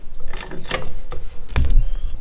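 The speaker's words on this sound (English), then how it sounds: "Position the jack on the bottom of the wishbone in a way where it won't slip off." A jack working under the wishbone of a Morris Minor, giving close, loud mechanical ratcheting clicks in a few uneven bursts and ending with a heavier metallic clunk.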